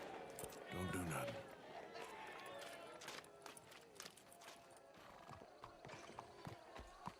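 Horse in Red Dead Redemption 2 gives a loud whinny near the start, with scattered clip-clop of hooves and busy game ambience continuing under background voices.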